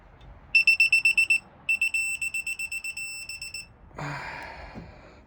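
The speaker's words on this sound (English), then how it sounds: "You torque it to 15 foot-pounds" A torque wrench tightening Can-Am engine bolts to 15 foot-pounds during final assembly gives a quick string of clear electronic beeps, a short pause, a second beeping run, then a brief clattering clunk.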